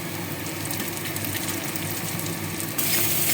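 Chopped ginger, onion and garlic fry together in a pan for a vegetable stew, a steady moderate sizzle that brightens and intensifies briefly near the end, no voices.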